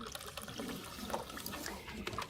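Drinking water is poured in a soft, faint trickle and splash, continuous for a couple of seconds in a quiet room.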